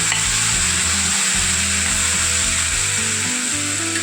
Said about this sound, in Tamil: பச்சை மிளகாய் வெட்டி வச்சு பச்சை மிளகாய் சேர்த்துக்கலாம்.